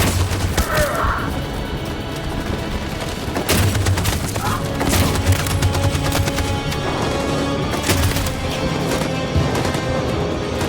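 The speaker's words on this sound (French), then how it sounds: "Cette saloperie de mitraillette tire sur tout ce qui bouge!" A machine gun fires in a chaotic battle scene in a war-torn town, with dense, loud, rapid bursts of gunfire and heavy booms that continue throughout without letup.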